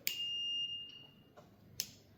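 A mini motorcycle gives a single sharp electronic beep as its key is turned, held steady for about half a second, followed by a few faint clicks in an otherwise quiet room.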